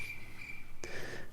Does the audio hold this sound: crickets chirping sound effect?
yes